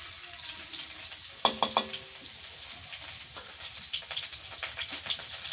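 Onions fry in a pan during village-style cooking of a live snakehead fish curry, a steady crackling sizzle with a brief burst of clatter from stirring.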